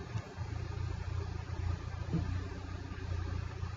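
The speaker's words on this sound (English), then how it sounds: "My neighbor has a loud ass car that throws me off every time when he pulls into that yard." A neighbor's loud car pulls into a yard, a steady low engine rumble that holds fairly constant over a few seconds, with no speech.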